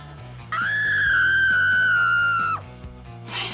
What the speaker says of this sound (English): cut to the scream